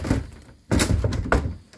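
A shower door in a 2023 Burstner Lyseo TD594 motorhome swings shut onto its magnetic catch, giving two close, solid thunks about half a second apart over quiet room tone.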